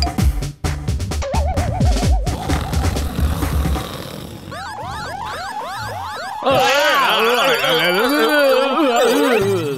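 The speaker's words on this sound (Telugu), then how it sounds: "ముందు ఆ అలారం ఆఫ్ చేయండి" An alarm rings in an animated cartoon, with warbling, rising and falling electronic wails layered over busy cartoon sound effects, growing louder and denser in the second half.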